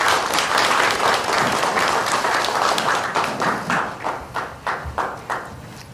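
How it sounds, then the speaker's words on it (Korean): Audience applause welcomes the floor leader to the podium at a Kwanhun Club invited debate in Korea: a dense, loud wash of many hands that thins into separate claps as it dies away. "박수로 맞아주시기 바랍니다."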